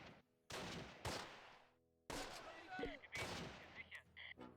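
Rifle fire in the World War II tactical game Close Combat, set around St. Germain in Normandy: several loud, sharp bursts of shots in quick succession, with brief gaps between volleys.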